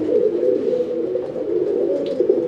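Pet high-flying pigeons coo steadily near their loft, a continuous low, throaty burbling at close range with no gaps, and faint higher chirps now and then.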